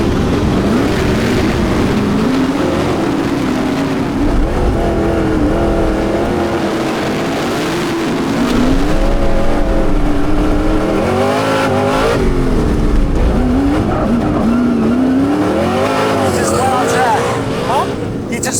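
Race cars roll off to start a race on an oval track, heard from the infield as a loud continuous engine roar with rising and falling revs throughout, while people talk over it.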